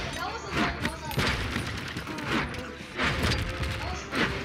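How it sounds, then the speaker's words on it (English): Bomb trap explosions in a 2v2 Paladins match, a series of heavy booms and crashes every second or so amid ongoing game effects, with people talking over them. "Oh, bomb trap,"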